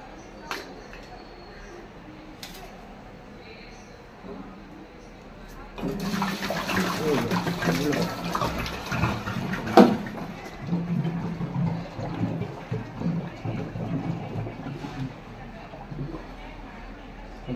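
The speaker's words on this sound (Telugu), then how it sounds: "ఇదంటే ఈ వాటర్ మార్చేస్తున్నాను." Drinking water is changed and poured out at home, starting as a short burst of splashing and gushing partway through, then tapering to trickles, with a person talking under it.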